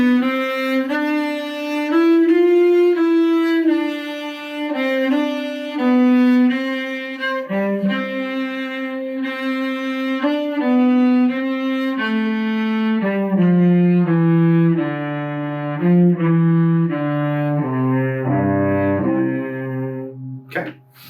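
A solo cello plays the first line of a practice duet, a slow, bowed, sustained melody with clear, resonant notes moving stepwise and settling lower toward the end, close and full.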